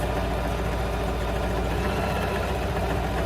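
A sewing machine stitches a nursery rug round and round, giving a steady, continuous motor hum with a low mechanical whir throughout and no talking.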